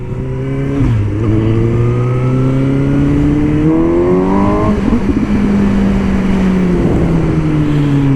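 Suzuki GSX-S 750 four-cylinder motorcycle engine while riding, loud and close, with smooth rising and falling revs through gear changes and a steady drone of wind and road noise, no talking.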